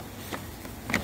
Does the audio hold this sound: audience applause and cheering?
no